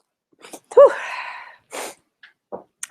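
A single sharp sneeze bursts out close to the listener, followed by a short breathy sniff and faint small noises in quiet surroundings.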